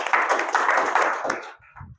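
Audience breaks into applause, a dense patter of many hands clapping for about a second and a half before fading into quiet with a few stray sounds at the end.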